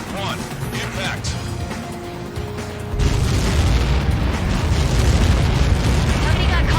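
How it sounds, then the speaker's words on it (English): A deep, rumbling blast from an Ace Combat 7 explosion erupts and swells into a heavy, sustained roar of debris and low booms, loud and close, after a stretch of quieter game noise. "Somebody got caught in that explosion."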